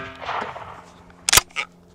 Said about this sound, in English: Here's our 12 gauge slug against our tires.